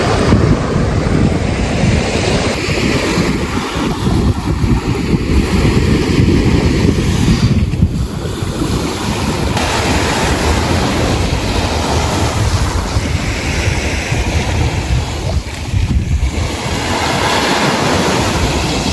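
Strong wind gusts buffet the microphone at the seaside under a cloudy sky, with surf rolling in behind. The roar is loud and continuous, swelling and easing, and no one speaks.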